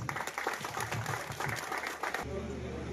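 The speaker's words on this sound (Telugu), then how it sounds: "ఒక చప్పట్లు కొట్టాలని" Applause from a crowd at a health camp inauguration, a dense patter of many hands clapping steadily, then thinning out toward the end.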